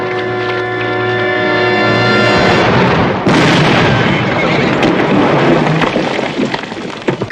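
A cannon fires at roughly 500 yards in a 1966 Western drama, producing a loud, sustained blast and rumble that roll on for several seconds with a sharp surge midway. Voices and a tonal score sound beneath it.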